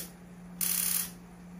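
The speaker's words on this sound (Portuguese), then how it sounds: "Vamos ligar a boca." A gas stove burner is turned on while cooking pasta with white sauce and bacon, giving a single broad hissing burst of gas and ignition lasting about half a second over a steady low hum, with no talk.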